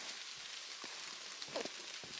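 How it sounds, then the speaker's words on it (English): Light rain beginning to fall on a hiking trail along the Appalachian Trail, a faint steady hiss with scattered soft taps of drops and no voices. "And it just started raining."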